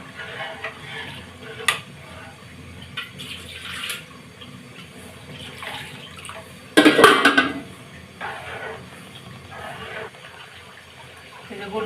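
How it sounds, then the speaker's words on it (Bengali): A spoon stirs beef curry in a pot. Scattered metallic scrapes and knocks mark the stirring, with one loud clattering burst midway, all close and without speech. "এখন শুধু নাড়তে হবে ঘন ঘন ঘন ঘন"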